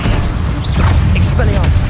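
A spell in Hogwarts Legacy erupts in a burst of fire, loud and continuous, set against a dense, rumbling game soundscape with swooshing magical effects over the short moment.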